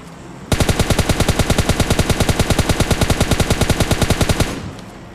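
Automatic gunfire in the mobile shooter game PUBG Mobile Lite, one loud continuous burst of rapid evenly spaced shots lasting about four seconds, close and with no talking.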